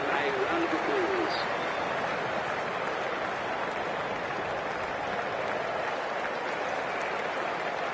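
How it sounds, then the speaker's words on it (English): A stadium crowd applauds at an India versus Australia ODI World Cup cricket match, a dense steady wash of clapping that sustains throughout, with faint voices mixed in under it. "Please give them a round of applause."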